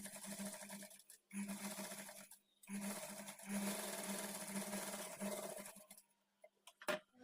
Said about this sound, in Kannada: ಮೊದಲಿಗೆ ನಾನು ಈ ನೆಕ್ ಪಾರ್ಟ್ ಸ್ಟಿಚ್ ಮಾಡಿಕೊಂಡು ಆಮೇಲೆ ಔಟ್ಲೈನ್ಸನ್ನು ಸ್ಟಿಚ್ ಮಾಡ್ಕೊಂಡು